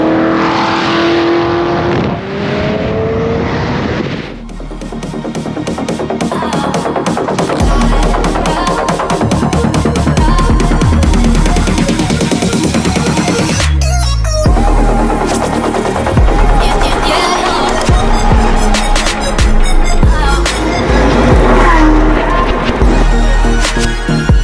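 Sports cars, including a Bugatti Chiron and a McLaren 765LT, drive past while their engines rev and accelerate hard. The loud, sustained roar runs throughout, with a brief dip partway through.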